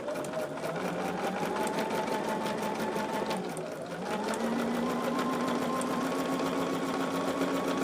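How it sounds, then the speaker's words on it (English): Sewing machine stitching a seam on a charm tote bag at a half-inch seam allowance, a steady rapid mechanical whir with a brief slowdown midway before resuming, close and moderately quiet with no talking. "So we are sewing this at the 1/2 inch mark."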